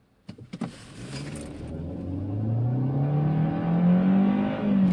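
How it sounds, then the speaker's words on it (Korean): A 2020 Hyundai Avante accelerates hard: a brief clatter gives way to a steadily rising engine drone that climbs in pitch and grows louder over several seconds, heard from inside the car. "제한속도 내에서 한번 가속을 해봤는데, 급가속을 해봤는데"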